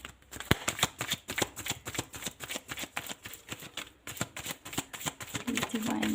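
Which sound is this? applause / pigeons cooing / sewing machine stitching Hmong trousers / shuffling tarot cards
shuffling tarot cards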